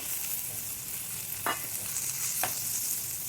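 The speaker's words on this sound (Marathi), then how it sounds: "नंतर याच्यामध्ये घालायचं आहे आपल्याला हे तळून घेतलेलं कारलं" Fried bitter gourd being stirred into spices in a pan, with a steady soft sizzle and two brief scraping stir strokes standing out at moderate volume, no voices.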